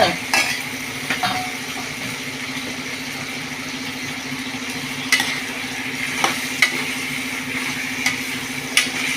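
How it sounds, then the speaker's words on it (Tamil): A spoon stirring brinjal and moong dal kootu in a pan, with a soft continuous sizzle under occasional scraping clinks against the metal, close and fairly quiet, no speech. "ஒரு கிண்டு கிண்டிட்டு உப்பு எல்லாத்துலையும் பிடிக்கணும்ல"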